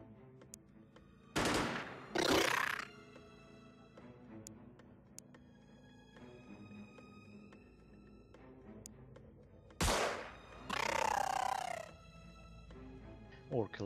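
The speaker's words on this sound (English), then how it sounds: "we scored a couple of shots on this one" Gunfire in the video game Xenonauts comes as two loud bursts of shots, one early and one later, over a steady game soundtrack.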